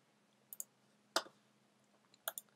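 Computer mouse clicks in video editing software, a few quiet sharp double clicks spaced apart over a faint background hum, with no talking.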